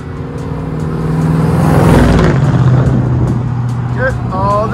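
Chevrolet cars, including convertibles, cruising past on a street, engine revving and swelling as one passes close by, heard under steady talk.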